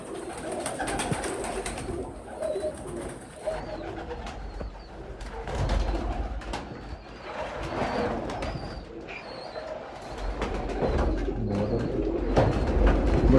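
Teddy pigeons, a rare fancy breed, cooing close by in repeated soft throaty phrases, overlapping with wing flutters and shuffling movement, with no talk.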